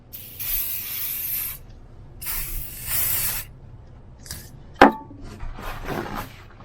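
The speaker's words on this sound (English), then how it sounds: "I just like to use some silicone spray just to keep the rust from forming" Silicone spray hisses from an aerosol can onto a drill press in two long sprays close by, then fainter short hisses follow, with a single sharp metallic knock in between.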